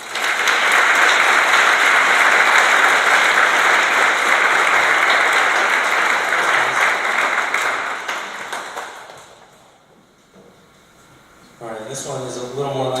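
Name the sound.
audience applause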